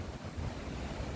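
A strong wind blows steadily on a rooftop on a cold, gusty day, making a faint, broad rushing roar like buffeting against the microphone.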